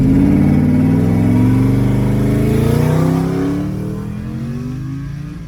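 Twin-turbo Ford F150 pickup with a new intake and billet converter, its engine revving hard as it accelerates, loud and close, rising pitch sweeping up through gear changes before easing off toward the end.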